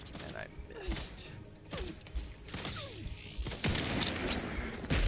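Turrets fire in The Outer Worlds 2 amid a chaotic firefight, with bursts of gunfire, mechanical clanks and whirring weapon sounds layered over game effects, and a voice talks briefly in between.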